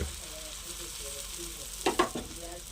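Onion dosa batter sizzles steadily in hot oil on a griddle, a continuous close frying hiss with a couple of louder crackling bursts near the end.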